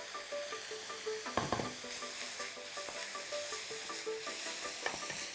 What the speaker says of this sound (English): And I'm going to fry these long enough just to release some of those oils